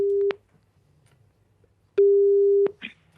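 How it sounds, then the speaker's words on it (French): Placing an outgoing phone call to a listener during a French radio show produces a short ring tone, a pause, then a longer steady tone. A faint click follows, with no speech. "Nous allons appeler Mehdi Zerouk"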